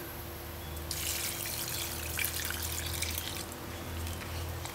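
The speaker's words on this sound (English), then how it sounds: "just pour a little white rum in it" White rum is poured into wine for soaking Jamaican Christmas cake fruit, a close, steady liquid trickle and splash lasting a few seconds before tapering off.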